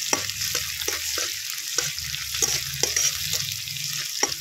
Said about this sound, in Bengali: গ্রেট করা রসুন দিয়ে দেবো, দিয়ে একটু ভেজে নেব